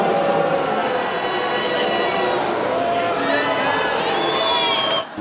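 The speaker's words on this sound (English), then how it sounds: "That boy got booed within an inch of his life." A large audience booing J.D. Vance at the Kennedy Center, a sustained, dense crowd roar of jeers and shouts holding steady for several seconds before dropping off at the very end.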